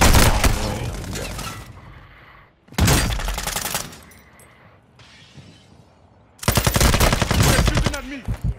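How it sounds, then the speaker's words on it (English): Bursts of rapid automatic gunfire rattle loudly in Call of Duty: Modern Warfare II, three long volleys separated by quieter stretches with echoing tails and debris-like crackle, while a voice murmurs faintly underneath. "They're shooting at me."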